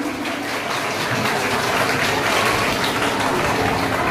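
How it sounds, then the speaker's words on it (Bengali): Applause from an audience at an outdoor school zero-waste rally, a steady, dense wash of clapping that fills the whole stretch without pause. "সবাই একটি করতালিতে মুখরিত হোক অঙ্গন"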